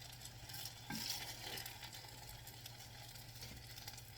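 Apple fritters fry in a cast iron pan with a faint, steady sizzle and crackle, broken by a few light clicks and scrapes.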